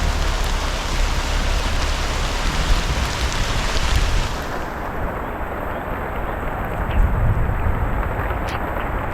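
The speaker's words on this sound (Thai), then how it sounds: "ก็มีน้ำไหลลงมาอยู่" Water pours steadily down off a sagging roof canopy, a dense close rushing and splashing that runs continuously without pause.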